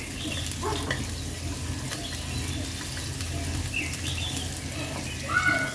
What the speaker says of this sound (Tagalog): At ngayon, magigisa na po tayo ng bawang at saka sibuyas.